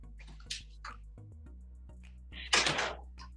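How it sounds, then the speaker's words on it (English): An indoor door pushed shut in a quiet room: a few soft knocks and thumps, then a short, louder clatter as it closes near the end, with no talking. "Can I just close this door?"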